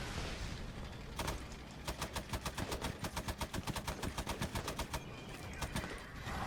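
Artillery fire and gunfire in the tank battle game Men of War, with rapid booming shots in a dense rhythmic string over a constant rumble of battle, loud and close.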